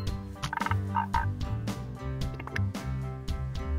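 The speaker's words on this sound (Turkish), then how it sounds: "Kurbağalarımız yine burada." Game frogs croaking in a school garden scene, a run of gobbling, warbling croaks repeating over a steady musical backdrop, loud and close.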